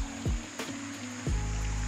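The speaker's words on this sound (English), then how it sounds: "that's the waterfall." A waterfall in the Marlborough Sounds, New Zealand, gives a steady rushing hiss of falling water throughout, fairly faint, with a few low thumps and no voices.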